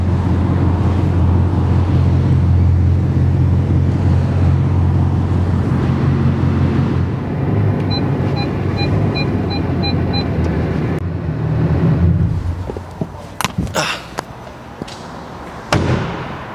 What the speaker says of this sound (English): I normally like to leave my car running for about 5 minutes, 10 minutes after a wash